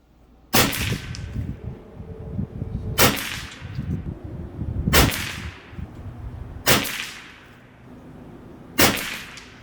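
Kral Arms NP-500 Tactical PCP air rifle firing pellets, five sharp cracks spaced about two seconds apart, each loud and close with a brief ringing tail over low background rumble.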